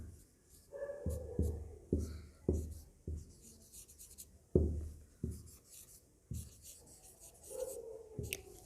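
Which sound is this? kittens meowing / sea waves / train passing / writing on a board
writing on a board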